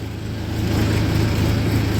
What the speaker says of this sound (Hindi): तीसरे में ट्रैक्टर काफ़ी अच्छी रफ्तार पकड़ रहा है